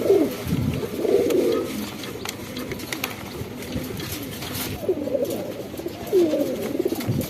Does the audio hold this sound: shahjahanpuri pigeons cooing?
yes